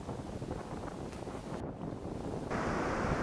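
Wind and waves on a long beach on the Caspian Sea shore in the Mangystau desert, a soft broadband rushing with muffled wind buffeting the microphone, no voices.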